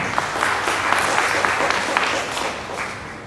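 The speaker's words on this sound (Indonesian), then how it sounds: "Tepuk tangan sekali lagi." A church congregation claps during a Sunday sermon, a brief, dense burst of applause that fades out after a few seconds.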